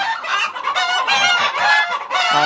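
A flock of Egyptian Fayoumi and Tiger laying hens on a Sylhet egg farm clucking loudly and continuously, many overlapping calls close by with no one speaking.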